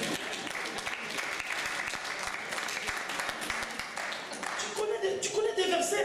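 A church congregation applauds at a French-language sermon, producing sustained, fairly loud clapping from many hands that swells toward the end, with a voice speaking over it.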